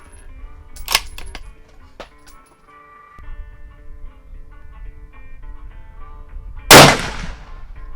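A Savage Axis rifle in 6.5 Creedmoor is fired outdoors, one loud sharp crack with a decaying tail, preceded by fainter distant shots and light metallic clicks in a quiet setting.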